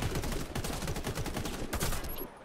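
Rapid, dense T27 automatic rifle fire from a free-for-all video game match, sustained bursts crackling close and loud for most of the clip before dropping off at the end.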